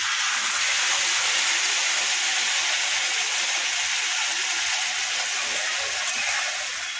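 A steady, loud, broad hiss and roar of hot water poured into sizzling masala-fried brinjal curry in a pan, continuous for several seconds and easing slightly toward the end, close up with no talk.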